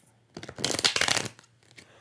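A quick riffle of shuffling cards, a dense crisp fluttering burst lasting about a second, followed by a couple of softer taps.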